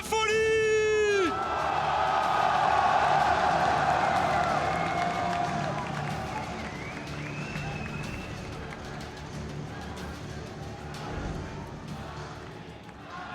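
A crowd of fans fills the Zénith arena before a League of Legends semifinal between RNG and Fnatic, with a steady cheering roar and whoops under an announcer speaking over the PA.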